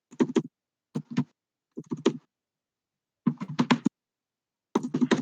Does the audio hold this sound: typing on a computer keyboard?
yes